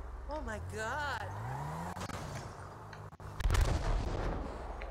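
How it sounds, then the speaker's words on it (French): Explosions in the video game GTA V, played in roleplay on PC: a deep, rumbling blast bursts in near the end after a stretch of engine and gunfire-like noise, with a person talking early on. "Wesh, il y a des explosions."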